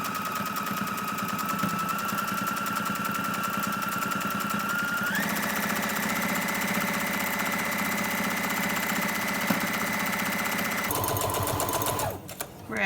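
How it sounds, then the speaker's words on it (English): A sewing machine stitches steadily along a fabric edge, a continuous close mechanical whir that shifts pitch midway and changes again near the end before stopping, with no talking. "I sew along this edge as close as I can"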